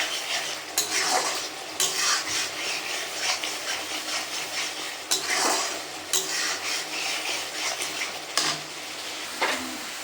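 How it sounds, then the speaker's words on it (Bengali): Cauliflower masala is stirred in a pan with a spoon until the oil separates, producing a steady soft sizzle and repeated scraping strokes against the metal, with occasional louder spoon scrapes. "এরপর এটাকে আমি নাড়াতে থাকবো যতক্ষণ এটা থেকে তেল না বেরিয়ে আসে।"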